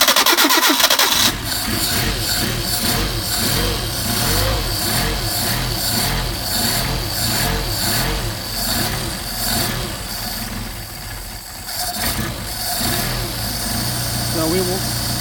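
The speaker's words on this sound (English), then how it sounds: "So we're going to warm up the carburetors, warm up the engine." Mercedes 190SL engine with Solex carburetors cranks and catches, then settles into a loud, steady, close idle with slight rhythmic unevenness, a voice faintly speaking over it.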